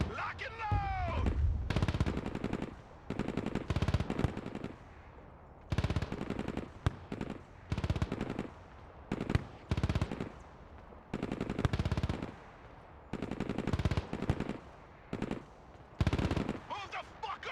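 Machine gun fire in the tactical RTS game Broken Arrow, with repeated loud rapid bursts and pauses between them, mixed with battlefield explosions throughout.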